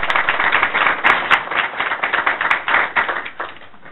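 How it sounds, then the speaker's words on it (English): Steady clapping from a school board meeting audience honouring district students, a moderate, fairly close patter of hands lasting several seconds with no talk over it. "give them another round of applause"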